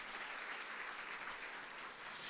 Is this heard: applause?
yes